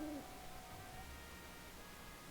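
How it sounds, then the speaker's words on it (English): An owl in Zelda: Four Swords Adventures gives a single short, faint hoot at the very start, followed by quiet game ambience. "The owl again."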